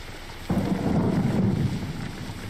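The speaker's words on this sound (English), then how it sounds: "it sounds like it's raining" Rain falls in the video game Jalopy, a steady broadband wash that starts abruptly and holds at a constant level with low rumbling underneath, heard alone with no voices.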